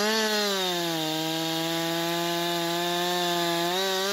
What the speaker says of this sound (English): As the saw roars to life, its sharp chain bites smoothly into the bark, cutting through the massive trunk with ease.